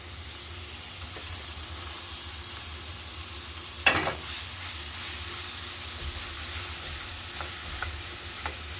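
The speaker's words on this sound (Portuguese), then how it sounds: "Vou refogar ela bastante para depois colocar o tomate e a ervilha." Ground beef seasoned with black pepper and ground coriander frying in a pan, giving a steady soft sizzle with one sharp clatter of stirring and a few faint scrapes.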